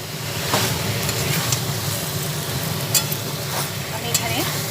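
Fried potatoes being stir-fried with spice masala in a pan for a light chicken curry, a continuous sizzle under repeated scraping and stirring strokes, close and fairly loud.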